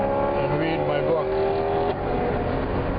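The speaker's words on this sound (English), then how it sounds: "BMW M3 with some kind of modified exhaust." A BMW M3 with a modified exhaust drives past a parked taxi, giving a loud, throaty engine note that rises and falls as it goes by, then eases into a lower rumble.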